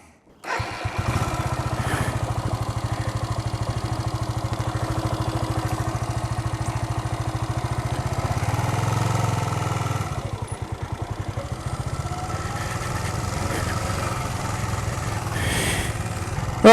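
A Suzuki GN 250 motorcycle engine starts and then runs steadily close by, a throbbing mid-pitched idle that holds for the whole stretch, with a slight change in tone partway through.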